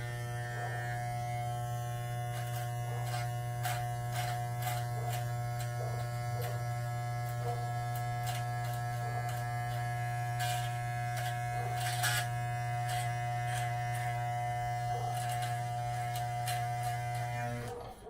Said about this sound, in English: I'm gonna take the clipper and just kind of line the lips up